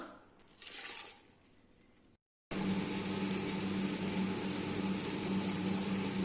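A mixer grinder loaded with soaked red chillies and rice starts after a few quiet handling knocks and a short silence, then runs as a loud, steady, close whirring grind.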